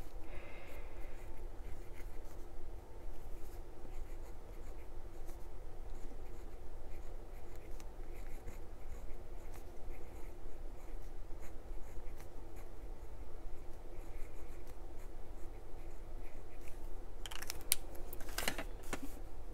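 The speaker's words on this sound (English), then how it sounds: "Maybe I will write dandelion on the side over here." A pen writes in a Hobonichi Techo creative journal, a faint, steady scratching on paper that runs for the whole stretch over a low background hum. No one speaks.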